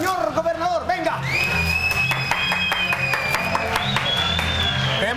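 A crowd in a park applauds a comic act: loud, dense clapping mixed with shouts, whoops and a high whistle-like tone, alongside voices talking over the noise.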